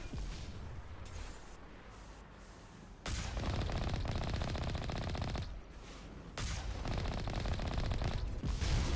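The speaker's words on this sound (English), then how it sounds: "Stop shooting at me!" Sustained video-game gunfire from geth enemies, a dense wall of rapid machine-gun bursts that swells loud from about three seconds in, briefly dips, then returns at full intensity.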